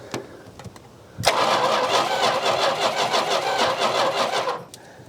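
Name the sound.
1971 Plymouth Roadrunner engine revving with a little throttle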